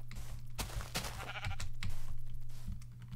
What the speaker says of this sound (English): Sheep. There's a lot of sheep around here.